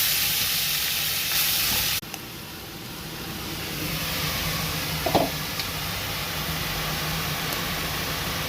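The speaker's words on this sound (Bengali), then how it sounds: "মাথাটাকে আগে ভালো করে ভেজে নিচ্ছি" A large fish head frying in hot oil with nigella seeds, a constant hissing sizzle close by, with a brief clatter of stirring partway through.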